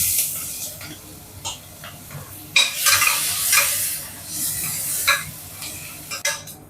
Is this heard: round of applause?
no